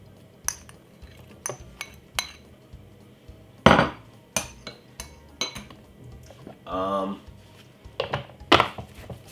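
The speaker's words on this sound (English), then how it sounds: "if I pop all of the frozen fruits in a smoothie blender like this" Hard frozen blueberries and strawberries clatter and clunk into a smoothie blender in scattered bursts, with sharp knocks and clinks and a brief rattling tumble near the end.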